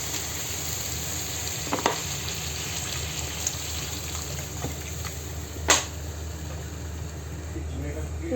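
Rohu fish pieces frying with spices in a pan for rui fish bhuna, a steady broadband sizzle running throughout with a few brief clinks or stirring knocks, fairly close and even in level, with no voices.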